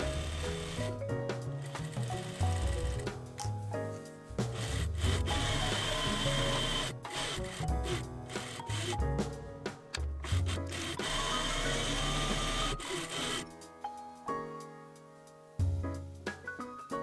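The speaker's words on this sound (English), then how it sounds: "you can sew 2 rows of stitches starting a 1/2 inch or 13 millimeters from the sewn edge" A sewing machine runs two rows of stitches along a sewn edge of a milkmaid blouse, a fairly loud, busy whirr that carries on almost continuously, with brief pauses between bursts.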